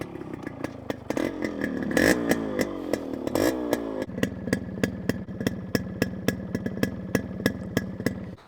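A motorcycle engine cranks and catches with an uneven roar, then settles into a steady idle with regular popping beats.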